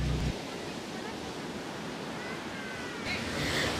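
Rough sea surf on a beach: a continuous loud wash of crashing waves that fills the scene, swelling again near the end.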